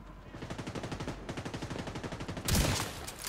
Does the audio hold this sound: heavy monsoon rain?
no